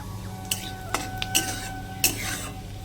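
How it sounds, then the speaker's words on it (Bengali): Cumin seeds fry in a pan with a low, steady sizzle underneath, while a spatula clinks and scrapes against the metal in a few distinct knocks. "জিরেগুলো যখনই লাল করে ভাজা হয়ে যাবে"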